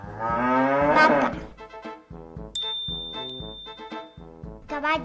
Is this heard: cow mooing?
yes